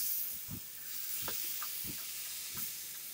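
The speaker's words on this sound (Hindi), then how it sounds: "अभी जो बैटर है हम इसमें लेकर इस तरीके से फैलाएंगे।" Dosa batter spread across a hot oiled pan gives a soft, continuous sizzling hiss, broken by a few gentle scraping strokes as the batter is spread, with no talking.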